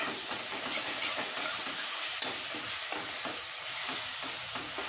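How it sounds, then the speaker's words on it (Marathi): Masala spice mix sautéing in oil, a steady dense sizzle and frying hiss with light stirring scrapes running continuously and close throughout. "अर्धा मिनिट परतून घेऊया मसाला."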